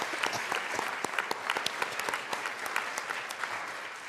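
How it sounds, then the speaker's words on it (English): A room of legislators in the Colorado House chamber gives a hand of applause, steady scattered clapping from many people at moderate distance, no voices over it. "let's still give him a hand of applause"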